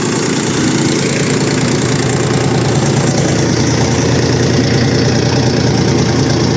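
A tractor diesel engine runs steadily at 1100 rpm, a loud, close, continuous rumble with a knocking, even beat throughout and no talk over it.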